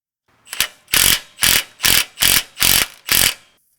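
Adjustable wrench ratcheting a bolt loose on a Jeep Gladiator's suspension, six or seven evenly spaced, close, loud metallic clicks in a steady rhythm.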